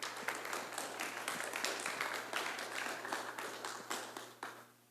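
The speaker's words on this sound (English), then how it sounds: "Give them a big round of applause." An audience applauds a speaker at a talk on interpreting machine learning models, with a short, fairly faint burst of scattered claps that thins out toward the end, over a steady low background hum.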